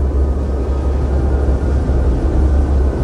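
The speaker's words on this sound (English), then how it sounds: "the plane is waiting to take you back to Berlin" A steady, close propeller airplane engine idling in Return to Castle Wolfenstein, a continuous low drone holding constant for the whole stretch with no talk.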